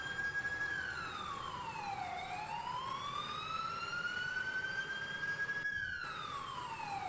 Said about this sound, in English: I just turned the ambulance siren on